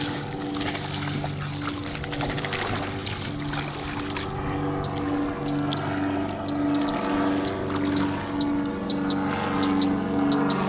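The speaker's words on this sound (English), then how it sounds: "Dogs playing in the water." Dogs splash and play in swamp water under a storm sky, with sloshing and trickling water close by, a steady low engine-like drone running underneath, and no talking.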